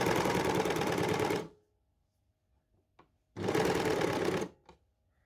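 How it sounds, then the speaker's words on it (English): Overlocker serger stitching a T-shirt: two loud, close bursts of rapid, even machine whirring, separated by a pause with a few faint clicks. "When you go with your overlocker to get into something like this"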